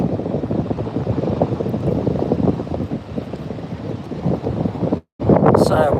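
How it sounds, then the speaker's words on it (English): Strong coastal wind buffets the microphone in a steady, loud roar, with a brief dropout near the end before the gusting rumble resumes. "Sorry for the shaky footage, the wind's a little bit strong."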